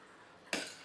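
A spoon stirs a tomato and baby potato curry in a pan, fenugreek leaves and coriander just added: one short scraping clatter, close and brief, with no talk.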